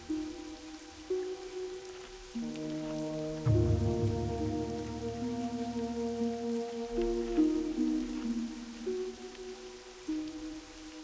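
Steady rain falls in World of Warcraft Classic, a continuous hiss running throughout under layered, sustained tones of game music that shift between chords, at moderate level with no talk.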